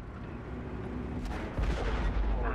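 A Ru 251 light tank fires its cannon in a video game, one heavy low boom partway through, rumbling over steady engine noise.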